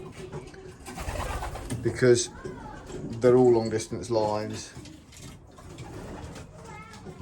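Racing pigeons, long-distance birds kept in a loft with nesting boxes, coo softly in the background while someone talks over them nearby.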